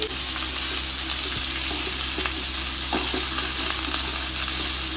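Onions go into a pan of browned coconut and fry with a steady close sizzle, with occasional stirring scrapes and no talking.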